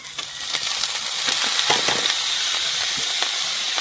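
Small village snails frying in hot oil with onion and garlic, a steady close sizzle and hiss with occasional soft pops and stirring clicks, no talk.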